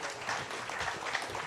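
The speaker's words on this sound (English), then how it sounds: "thanks for giving them a round of applause" Conference audience at an alternative fuels event giving a brief round of applause, faint and somewhat distant clapping in a large hall, lasting only a moment.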